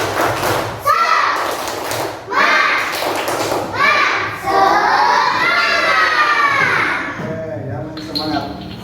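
Schoolchildren in a classroom perform the tepuk semangat clapping chant, their loud voices shouting in unison over rhythmic claps and thumps. The sound is close, energetic and nearly continuous for several seconds.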